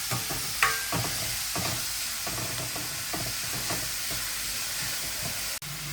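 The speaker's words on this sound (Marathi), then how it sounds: "पियाव आनी ग्रीन चिली घातले. ग्रीन चिली घातला. पियाव मातसो बरो भाजया." Onion and green chili fry in a pan with a steady close sizzle, broken by repeated stirring scrapes and a few sharp clinks, with no talking.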